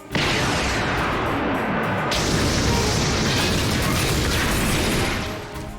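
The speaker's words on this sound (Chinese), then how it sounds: "瞬间引发一场烈性爆炸" A loud animated explosion, as a steel robot's body is destroyed, blasts and roars continuously for several seconds, then begins to fade out.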